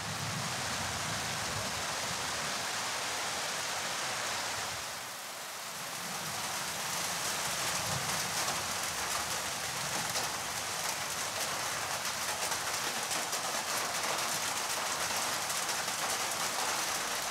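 Steady rain pours down on muddy farm soil, a dense continuous hiss that dips briefly after a few seconds and then returns just as heavy, with no voices.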